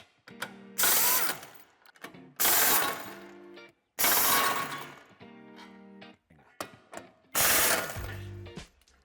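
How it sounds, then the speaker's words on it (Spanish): A ratchet loosens the bolts of the metal reinforcement on a Volkswagen Passat Alltrack during a tow hitch installation, making four loud, close bursts of rapid clicking separated by short pauses, with no talking. "Ahora nos falta quitar el refuerzo metálico que va sujeto con 3 tornillos en este lado y 4 en el otro."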